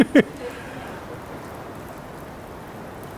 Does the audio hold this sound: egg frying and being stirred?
no